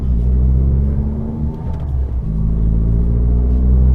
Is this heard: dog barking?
no